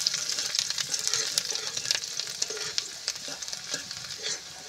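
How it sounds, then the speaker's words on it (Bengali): Garlic sizzles and fries in fish oil with a little added oil in a pan, with steady crackling and scraping stirring strokes heard close, no talk. "ভালো মতো করে আমি নেড়ে নেব।"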